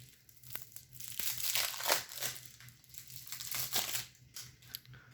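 Crinkling, tearing plastic wrapping comes off a Dragon Ball Super card game starter deck featuring Goku Ultra Instinct, up close with bursts of crumpling and crunching throughout, no talking.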